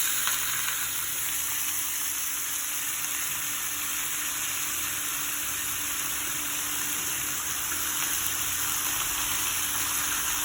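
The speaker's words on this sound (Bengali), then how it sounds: "তেলে একটু জিরে আর একটা লঙ্কা ফোড়ন দিয়েছি। এবার এটা ভেজে নেব" Potato and pumpkin frying in oil tempered with cumin and a chilli, a steady, dense sizzle that holds evenly throughout with no talk.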